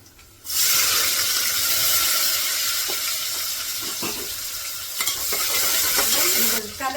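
Cumin, garlic and onion hit hot oil for paneer bhurji, bursting into a loud, steady sizzle with intermittent scrapes of a spoon stirring in the pan.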